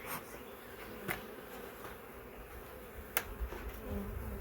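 Honey bees fly around a nuc box, their faint steady buzzing hum continuous with a few brief louder passes close by.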